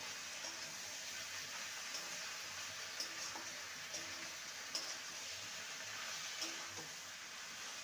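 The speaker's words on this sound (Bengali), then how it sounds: "ভালো করে সবজির সাথে মিশিয়ে নেব আর 2 মিনিট ভেজে নেব।" Vine spinach and mixed vegetables fry in a pan with prawns, a soft continuous hiss and crackle under occasional light stirring taps, close and quiet, with no voices.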